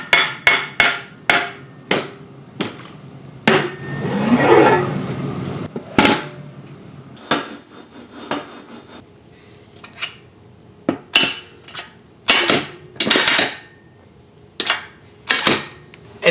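Metal clanks and knocks of a REP BlackWing weight bench being adjusted: a series of sharp, fairly loud impacts in irregular bursts with short rattles, close by and with no talking.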